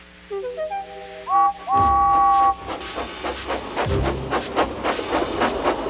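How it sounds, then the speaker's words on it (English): Steam locomotive whistles sound in rising tones, then heavy chugging and hissing steam bursts repeat as the engines labor to pull freight cars uphill. "the snorting engines forced the freight cars up the hill"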